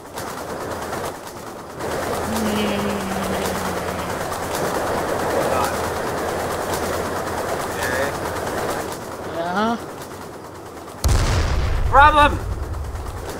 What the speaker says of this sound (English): He's trying to shoot missiles at me!